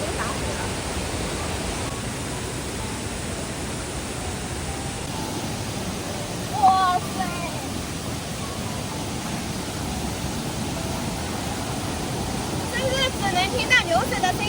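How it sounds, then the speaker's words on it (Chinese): Loud floodwater roars through a mountain river gully after heavy rain, a dense, unbroken rushing wall of noise close by that swamps everything, with a brief exclamation from a person partway through. "听到流水的声音，都不能听到我说话的声音了，因为它这个流水真的非常大"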